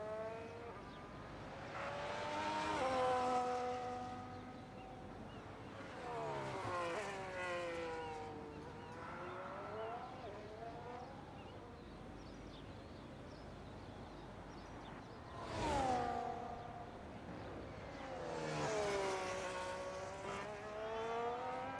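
Race cars lapping the Singapore street circuit in the iRacing sim, engines rising and falling in pitch as they rev through gears and pass, some sweeping by close while others stay fainter in the distance, with no voices.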